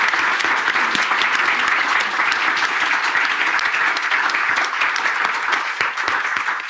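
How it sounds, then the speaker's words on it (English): An audience at a live business newsmaker event gives a sustained round of applause, thick, even clapping that stays loud for nearly seven seconds. "Audience, please join me in giving a big round of applause for Piyush."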